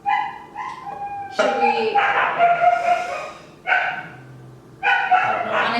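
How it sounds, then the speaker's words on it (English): Dogs bark and yip indoors in a home kitchen, several short outbursts breaking in between and over people talking nearby. "Sorry if you hear dogs."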